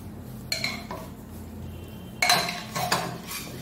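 A spoon scraping and clinking against a pot while Maharashtrian matki is stirred, a few short metallic knocks with a sharper pair of clatters near the end, fairly faint and close.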